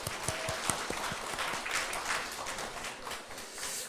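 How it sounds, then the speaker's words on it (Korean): A church congregation applauding at a Christmas Day Sunday service: a short burst of brisk clapping from many hands, strongest at the start and then settling into an even patter. "우리의 찬양과 우리의 율동을 기쁘게 받으신 주님께 영광의 박수 올리겠습니다."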